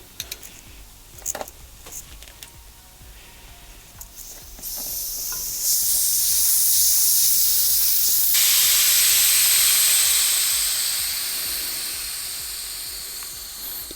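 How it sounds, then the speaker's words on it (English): Air hisses out of a motorcycle tyre valve on a wheel taken off for a tyre change, starting a few seconds in as a loud, steady broadband rush that holds strong and then slowly eases off, with no talking. "We need to let all the air out."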